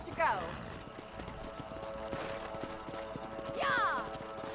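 Horse hooves clip-clop through the Red Dead Redemption game world, a steady patter of light, even hoofbeats under ambient game sound, with two brief rising whinny-like calls near the start and end.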